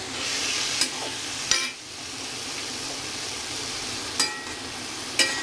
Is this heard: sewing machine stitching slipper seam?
no